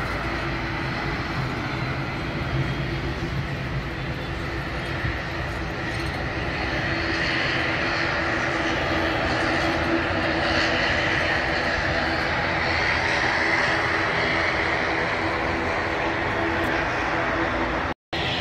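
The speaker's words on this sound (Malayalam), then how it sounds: "ഫ്ലൈറ്റ് പോകുന്നതാണ്." A jet airplane passing near Bhuntar Airport makes a steady, broad roar that persists throughout, moderately loud and distant-sounding, with no clear break until a brief dropout at the very end.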